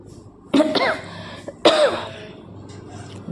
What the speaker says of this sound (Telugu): దగ్గు మాత్రం తగ్గట్లేదు